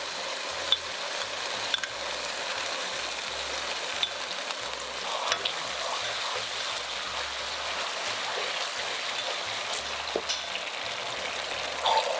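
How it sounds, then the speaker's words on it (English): A sauce sautés in a buttered pan with a chicken dish, giving a soft, continuous bubbling sizzle with occasional faint stirring ticks, close but fairly quiet and unbroken by speech. "Pour the sauce in and sauté them for a while."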